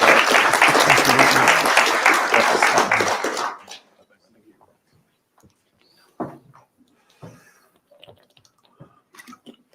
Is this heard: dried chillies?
no